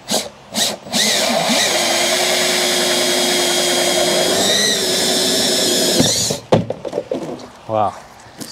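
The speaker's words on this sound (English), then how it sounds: "So let's get to drilling now." Power drill boring a hole for a DIY sandblasting booth, a steady loud whine running several seconds with pitch shifts, then stopping abruptly, followed by brief handling clatter.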